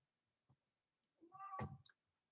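A cat meows faintly in the background of a quiet room, one short drawn-out call followed by a small chirp.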